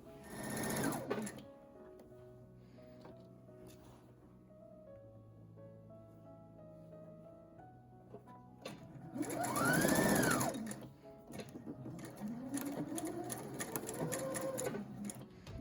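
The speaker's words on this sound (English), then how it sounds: "So now I'm just gonna pin and sew each of the gores into the side seam." Sewing machine stitching triangular gores into the side seam of a Regency-era linen shift, with a few short bursts, a long loud run of stitching midway and steadier running toward the end, close by and with no talking.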